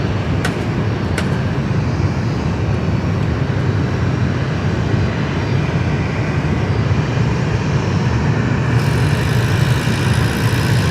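At Sydney Airport an airplane roars down the runway on takeoff, a loud, sustained broadband engine rumble that holds steady throughout, heard from a distance with no voices.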